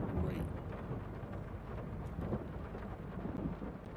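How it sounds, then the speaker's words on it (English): Rain and rolling thunder in a logging video game, a soft, steady wash of rainfall with low rumbling underneath, faint and continuous without any voices. "I should see if I can turn off the rain"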